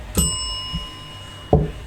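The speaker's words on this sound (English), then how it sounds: "The murderers hit the bell." A bell is struck once, ringing out with a bright, sustained metallic tone that slowly fades, followed later by a couple of dull knocks.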